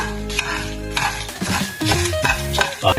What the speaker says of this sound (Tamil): ரெண்டு கரண்டி சின்ன சீரகம், உழைப்புக்கு ஏற்ற மிளகாய், 2 நிமிஷம் இதை வறுத்து போட்டு